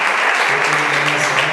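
Church congregation clapping together in sustained, dense applause at close range, steady throughout with a faint voice underneath.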